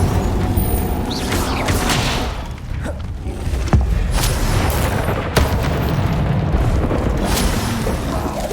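The Incendio fire spell from Hogwarts Legacy bursts in loud whooshing booms and fiery crackles, with several heavy thumps layered over a rumbling game soundscape.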